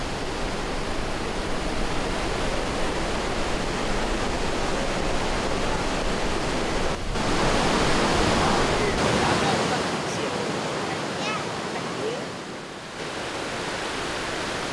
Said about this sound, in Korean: 물은 들쭉날쭉한 바위와 좁은 협곡을 통과한다.